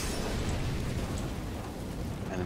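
A Molotov burns in CS:GO, giving a steady, loud roar and rumble of flames that crackle throughout with no break.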